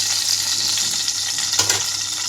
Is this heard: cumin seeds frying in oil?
yes